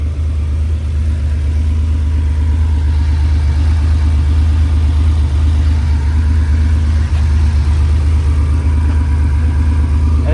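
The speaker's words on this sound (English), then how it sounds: "motor sounds beautiful though" A 1981 Porsche 911SC coupe with a 3.2 upgrade idles steadily, a loud, close, even low rumble with a slightly uneven mechanical texture and no talk over it.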